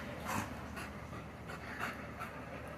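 A puppy pants rapidly and steadily up close, quick rhythmic breaths with no talking.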